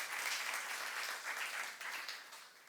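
A church congregation applauds at a youth sermon, a dense burst of clapping that holds steady and then tapers off over under three seconds, heard alone without speech.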